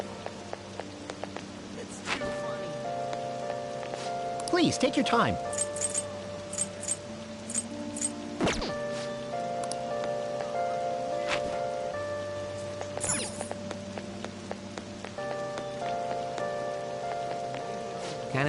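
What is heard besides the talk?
rain falling, from the video game Persona 5 Royal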